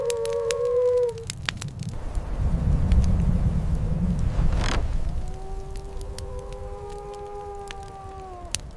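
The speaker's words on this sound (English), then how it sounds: "Suddenly, the grandmother hears distant howling. Wolves." Wolves howl in the distance during a Siberian snowstorm, long wavering cries rising and falling at the start and again near the end, separated by a rush of low wind noise.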